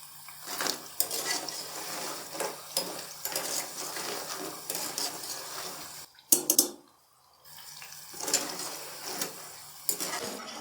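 Crispy tea-time snacks frying golden in hot oil, a close, bubbling hiss broken by utensil clinks and clatter, dropping briefly into near silence before the bubbling resumes.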